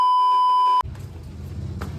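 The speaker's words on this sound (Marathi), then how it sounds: "फोन आला." A phone gives a single sustained electronic tone that cuts off sharply after under a second, leaving a low engine and road rumble.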